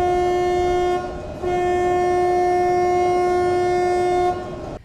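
At the port of Kuryk, where railway wagons of goods are loaded onto a ferry, a train horn sounds loud and steady in two long blasts with a short break between them, over a low rumbling background.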